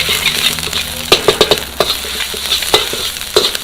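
Red curry paste stir-fried in a pan over low heat for a catfish curry, a steady close sizzle with repeated scraping and stirring strokes of a spatula across the pan.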